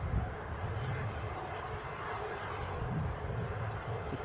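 A distant aircraft departing Newcastle International Airport in the early morning gives off a faint, steady low engine rumble that continues evenly throughout.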